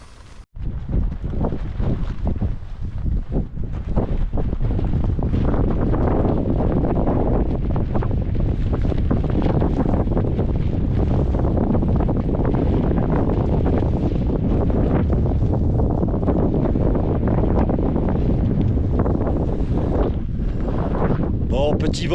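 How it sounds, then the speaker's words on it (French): Strong, steady wind buffets the microphone outdoors at sunrise in an arid Argentine desert, a constant loud roar with gusty rumbling throughout and no other clear sounds. "petit vent, mais normal"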